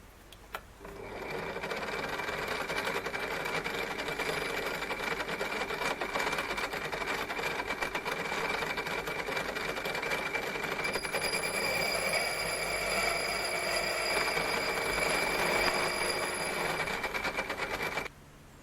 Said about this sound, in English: I'm going to cut at a 30 degree angle.